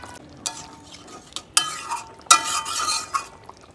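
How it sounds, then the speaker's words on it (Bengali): Rui fish curry being gently stirred in a pan, with soft scraping strokes and a few sharper clinks of the utensil against the pan over a light sizzle, close and moderately quiet. "সেই রসটা আলতো হাতে নাড়াচাড়া করে দেব"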